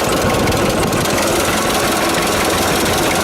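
A 1946 John Deere AR tractor engine runs steadily and loudly up close, a dense, continuous rumbling chug with a rough knocking texture and no pauses or speech.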